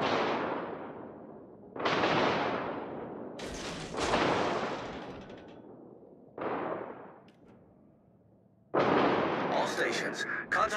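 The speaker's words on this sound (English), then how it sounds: "Concentrate fire on the enemy warship." Heavy naval gun salvos from warships in the game World of Warships, several loud booming blasts a few seconds apart with long decaying rumbles, the last burst sharper and crackling.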